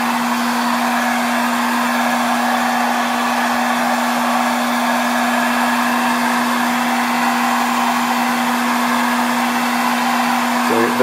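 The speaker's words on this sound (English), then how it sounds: "And now we're going to heat the ECU to soften the glue." A hot air tool blows steadily and loudly at close range to heat a car ECU and soften its glue, producing an unbroken whooshing hum with a fixed tone.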